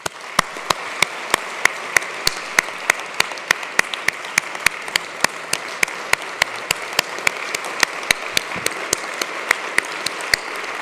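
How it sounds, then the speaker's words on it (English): Sustained audience applause in a lecture hall, held in memory of Professor Maurizio Fermeglia, a steady dense wash of many hands with sharp sporadic claps standing out, continuing evenly for the full length without talk. "So I'd like to ask you an applause in memory of Professor"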